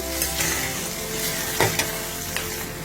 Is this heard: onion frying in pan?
yes